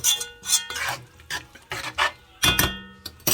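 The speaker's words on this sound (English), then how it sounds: "we give it a quick little stir, get all those flavors in there" Rice with chicken base and cumin gets stirred in a pot, a quick series of scraping, rasping strokes with small clinks, close and uneven in rhythm.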